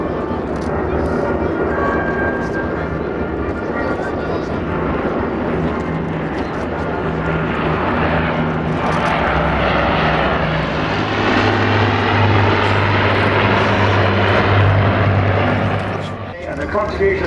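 An Avro propeller aircraft of the Battle of Britain Memorial Flight passes at a 2014 Scottish and Southport airshow, its engine drone swelling loud and then fading, while an announcer speaks over the public address throughout.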